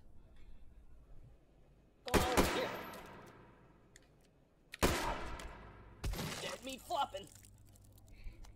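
Battle rifle shots in the video game Take & Hold, three sharp loud bursts spaced a few seconds apart, each with a short echoing tail, with low background noise and some speech nearby.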